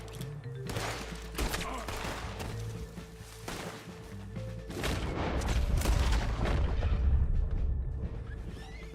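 Repeated gunfire in Red Dead Redemption 2, with loud sharp shots in bursts over a rumbling low background, getting louder and denser toward the end.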